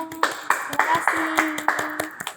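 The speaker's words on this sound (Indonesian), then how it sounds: "Boleh tepuk tangannya dong" A small podcast audience gives a brief round of applause, with a handful of separate, fairly close claps spread over about two seconds and a voice heard alongside.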